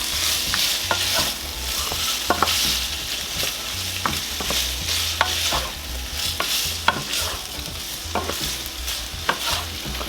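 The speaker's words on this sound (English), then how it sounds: "Let's go ahead and stir these around so we can get it on all sides a little bit." Beef sausage pieces sizzle steadily in a hot pan for a bean soup, with repeated scraping clinks of a utensil stirring them, close and continuous with no talk.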